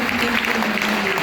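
A church congregation applauds and cheers in praise of the Lord, a dense, steady wash of clapping and voices with a sustained vocal tone running through it.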